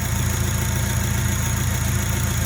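A 2002 Acura RSX Type S with a K24 engine swap idles with a surge. The engine sound is a close, loud, steady drone with a low rumble throughout and no other sounds.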